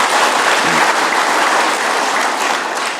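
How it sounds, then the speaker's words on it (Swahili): A crowd at a public address in Tharaka Nithi, Kenya, claps loudly and steadily, a dense continuous applause that fills the whole moment without talk. "Mujipigie makofi tena"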